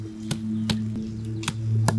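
Ginger and onion crushed on a grinding stone, sharp pounding knocks at a steady rhythm of roughly two per second, close and clear over a constant low hum.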